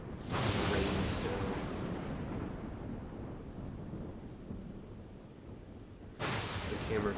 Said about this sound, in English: Lightning in the sky, thunder,